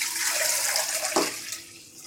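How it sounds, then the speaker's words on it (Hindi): Water pours into a cooking pot with chicken for yakhni stock, a close, continuous rushing splash that ends in a brief slosh. "4 गिलास पानी ऐड करेंगे।"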